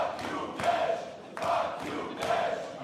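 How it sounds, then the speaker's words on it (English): A sold-out wrestling arena crowd in Hamburg roars in rhythmic bursts, chanting and cheering in waves about every second, loud and reverberant. "When you listen to this crowd here in Hamburg, sold out."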